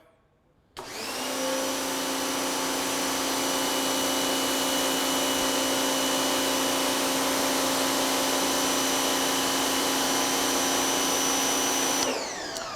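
An active pressure washer runs about three feet away, starting abruptly with a steady, loud mechanical drone and high whine that holds constant for about eleven seconds before cutting off.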